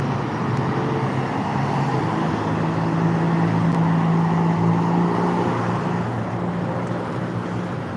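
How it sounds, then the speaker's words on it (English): A Toyota Tacoma TRD Sport pickup truck drives by amid steady road traffic, a continuous loud engine and tire rumble that swells slightly in the middle and stays close throughout. "Check out that big old truck."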